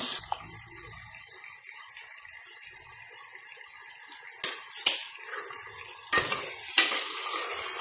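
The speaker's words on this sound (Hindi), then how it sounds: "और अब आपने इसे भूनना है तब तक जब तक टमाटर बिल्कुल गल ना जाए।" Tomatoes being stirred and fried in a pot, with steady faint sizzling and scraping stirs that grow louder and sharper in the second half, several distinct clanks against the pot.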